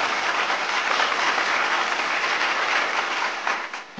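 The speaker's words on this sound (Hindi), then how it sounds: "तो दोस्तों जोरदार तालियों के साथ अभिनंदन करें शैलेश चंद्र वर्मा का।" An audience at an awards ceremony in Uttar Pradesh applauds an honoree, loud, dense, steady clapping from many people that fades slightly in the last half second.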